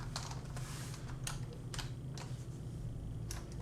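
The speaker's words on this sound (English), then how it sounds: "So I'm going to type net user" Sparse, soft keystrokes on a computer keyboard as a command is typed on a Windows PC, a few quiet clicks spread over a steady low hum.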